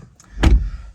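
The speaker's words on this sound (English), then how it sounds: "Let's get this door shut." A single solid thud of a BMW M340i xDrive car door shutting, close and fairly loud, with a brief muffled rumble after.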